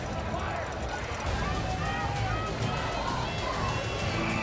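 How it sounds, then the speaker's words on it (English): A large crowd fills a high school football stadium at a Friday night Theodore vs. McGill-Toolen game, giving a dense, continuous roar of voices and cheering at moderate distance. "We have got a big crowd here tonight on both sides of the stadium here at the Lip"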